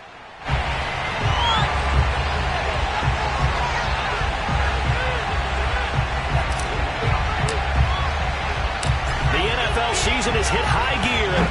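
Broad, steady roar of a stadium crowd in an EA Sports football game, loud and continuous for several seconds with occasional sharp thumps rising out of the swell.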